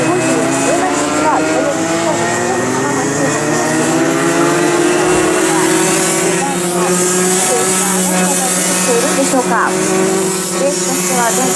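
Racing vehicles during a race practice, their loud continuous engine whine rising and falling as they pass, with a commentator talking over them throughout.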